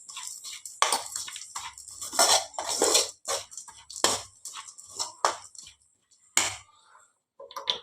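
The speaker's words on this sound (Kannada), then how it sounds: "ಇದನ್ನೊಮ್ಮೆ ಚೆಂದ ಮಿಕ್ಸ್ ಮಾಡಿಕೊಳ್ಳಿ." Crushed chips being stirred into a cooked mixture in a metal pan for chips chaat paratha stuffing, with a spoon repeatedly clanking and scraping against the pan in irregular bursts, close and fairly loud, with no talk.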